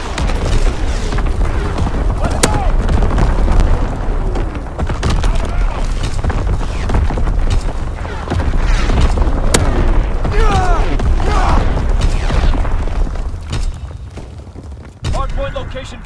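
Artillery bombardment called in on a target in a war video game, a dense continuous rumble of distant booms and blasts with scattered sharper cracks, sustained loud throughout and dropping off near the end, with voices over it.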